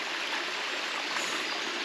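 A small waterfall in the Kinross nature reserve in Scotland, with steady, continuous rushing and splashing water heard close by at a constant loudness and no talk over it.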